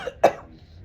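A single short, sharp cough from a man, close and clear, with a faint breath just before it and quiet afterward.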